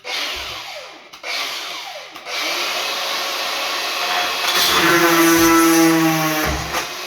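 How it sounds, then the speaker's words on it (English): A power drill whines steadily as it bites into hard porcelain tile, with brief stops and restarts and a grinding edge to the sound. "But we're drilling it now, so let's give it one more go."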